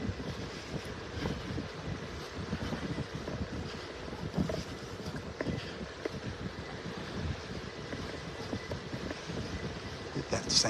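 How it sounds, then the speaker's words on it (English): Wind buffeting a microphone on a beach walk along the sandbars of North Naples, Florida: continuous low roaring gusts that rise and fall throughout, with no voice heard. "Sorry about that wind."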